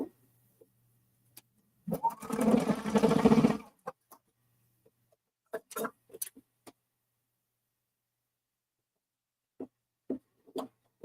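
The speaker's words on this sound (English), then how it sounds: "I'm going to put this in the sewing machine" A sewing machine whirs through a short stitching burst of about two seconds, followed by scattered clicks and handling taps amid near silence.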